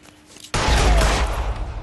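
A loud burst of gunfire from the video game LA Noire breaks out abruptly after a quiet half-second and carries on as a dense, rumbling volley, close and heavy, to the end.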